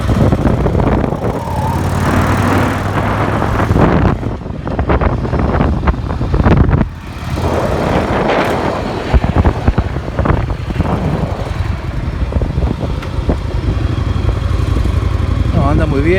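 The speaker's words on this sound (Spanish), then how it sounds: "Anda muy bien la moto, no tironea, no hace explosiones." A Yamaha XV 750 motorcycle, recently repaired after running on a failing cylinder, rides along with a steady engine drone mixed with heavy wind rush against the microphone, and the rider speaks at times over the noise.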